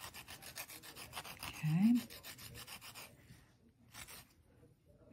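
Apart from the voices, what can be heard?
sanding polymer clay with coarse Abranet sanding mesh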